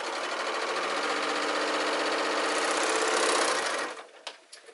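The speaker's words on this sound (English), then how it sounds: "I'm going to go ahead and make sure that I completely sew this shut" A sewing machine stitches a belt shut in a fast, steady mechanical whirr up close, then stops abruptly, followed by a few small clicks and handling noises.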